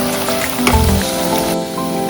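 Masala sautéing in hot oil in a kadai for mutton curry, a steady sizzle with brief louder stirring scrapes, close and continuous.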